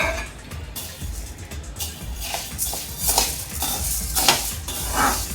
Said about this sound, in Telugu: ముందుగా ఉద్దిని వేయించుకోవాలి